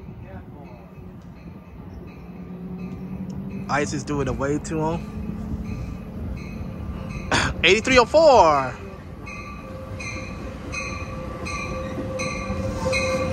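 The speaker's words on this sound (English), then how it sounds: "here comes the 534 Capital Corridor train" Amtrak Capital Corridor train 534 rolls into Richmond, California station with rumbling wheels and sharp squealing, cab car leading, a loud blast of horn-like tones in the middle, while people talk nearby.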